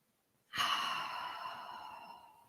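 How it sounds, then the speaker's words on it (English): A single deep breath during a guided power yoga session: a soft, broadband airy exhale that starts abruptly, lingers for about two seconds and slowly fades. It is close to the microphone, with no talk over it. "Just take some deep breaths here."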